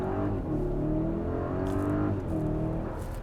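A 2021 Mercedes-Maybach GLS 600 accelerates hard at full throttle from second gear. A continuous engine roar rises in pitch, then shifts and climbs again, heard from inside the cabin without speech.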